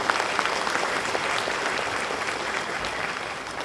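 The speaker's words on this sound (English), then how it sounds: "we need to give you a special round of applause for sharing him" Applause fills a room at a retirement party, a steady, dense wash of clapping from many hands, sustained and even throughout.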